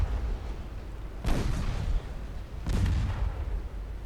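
Warships fire and explode in a naval battle in Ultimate Admiral Dreadnoughts: two heavy booming blasts a second or so apart rise over a constant low rumble.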